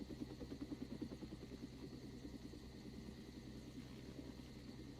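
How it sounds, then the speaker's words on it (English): Super Lynx military helicopter hovering over a ship during a hostage exercise, a faint, steady rotor thrum with rhythmic beating and distant engine whine, continuous and without voices. "we have live coverage from the Super Lynx helicopter over hovering over the KD Abdullah"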